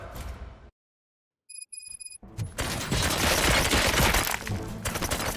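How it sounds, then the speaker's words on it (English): Loud, sustained bursts of gunfire in a Robocop-themed Dota 2 scene, rapid overlapping shots after a brief silence, dense and continuous to the end. "Gunshots? What's going on?"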